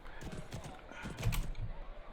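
Hooves clip-clop over ground as a horse moves in a video game, with a whinny and scattered game sounds, heard fairly faintly beside a nearby voice.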